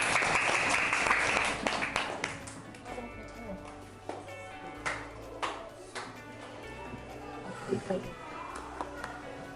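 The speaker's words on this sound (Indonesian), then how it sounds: "Oke, kita beri tepuk tangan lagi sekali." Clapping from a group of children and adults at an Indonesian elementary school event, a burst of applause that fades into scattered, irregular claps and taps with voices in the room.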